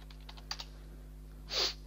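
Keys tapped on a computer keyboard while a password is typed: a few soft, separate clicks early on, then a brief louder burst near the end, close and quiet with no talking.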